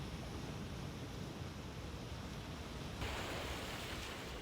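Calm sea waves on a quiet beach below a temple on Korea's east coast, a steady soft wash of surf with no talking, slightly brighter in the final second.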